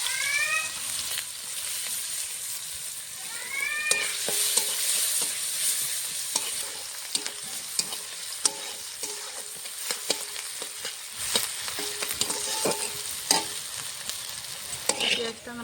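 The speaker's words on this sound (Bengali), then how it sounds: "পেঁয়াজটা আমার লাল লাল করে ভাজা হয়ে গেছে" Onions frying in oil until browned for beresta, a loud, steady sizzle running throughout with repeated scraping and clicking of a spatula stirring in the pan, and a few brief high chirps near the start.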